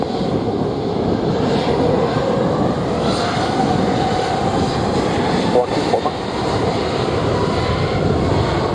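A Southwest Boeing 737-800 takes off from runway 07 at Montego Bay airport in Jamaica on a sunny day, its engines a loud continuous broadband roar, with faint radio voices beneath.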